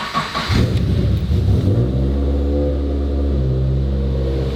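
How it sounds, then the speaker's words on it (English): A Subaru BRZ engine cranks and catches, revs briefly, then settles into a steady, close idle with a low rumble. "Let's go start up the car and see how it runs"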